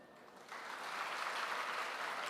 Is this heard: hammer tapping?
no